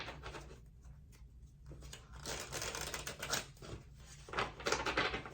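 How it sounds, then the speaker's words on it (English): A deck of oracle cards being shuffled by hand, soft papery riffles and flicks in uneven bursts, close and quiet. "Let me do a little shuffle for the messages to support the messages from the other realm."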